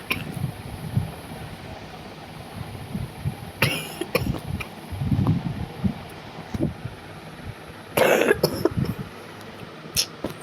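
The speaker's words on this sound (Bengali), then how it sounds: "সরি, আমার কাছে কাশি হয়েছে।" A person coughs and clears their throat, two or three rough bursts set against quiet background noise, with faint rumbling in between.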